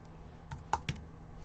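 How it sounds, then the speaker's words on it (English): A few quick keystrokes on a computer keyboard, close and fairly quiet, ending with two sharper clicks, with no voices. "Why did I type x? Trust me, I'm a klutz on the keyboard."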